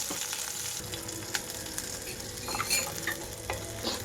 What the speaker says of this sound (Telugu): వీటిని 2 నిమిషాల పాటు వేగనిస్తున్నాను.